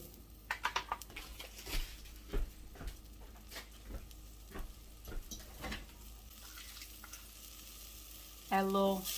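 Scallops sizzling in a pan as alcohol cooks off, a steady close frying hiss with irregular pops and crackles, and a brief clatter near the end.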